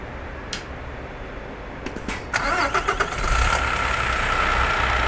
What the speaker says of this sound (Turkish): Şöyle hemen aracımızı bir çalıştıralım.